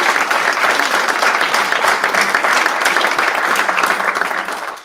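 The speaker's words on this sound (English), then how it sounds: "Let's give a big round of applause to our finalists." Audience applause for the finalists at a young innovators showcase event: a dense, steady wash of clapping from a crowd, sustained and loud throughout before tapering off at the very end, with no talking.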